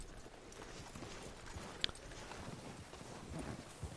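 Horse hooves clip-clop steadily in Red Dead Redemption 2, a soft rhythmic plodding beneath faint ambient game sound, with no voices.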